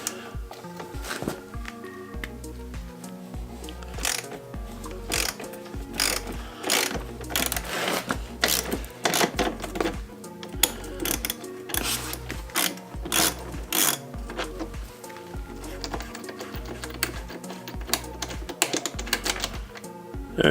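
Hand ratchet with a 19mm socket turning a swing arm bolt on a 2017-2018 KTM 250/300 XC dirt bike, a steady series of close, sharp clicking bursts continuing throughout.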